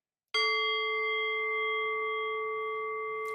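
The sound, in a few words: gong struck to begin meditation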